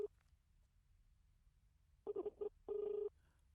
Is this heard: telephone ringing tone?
yes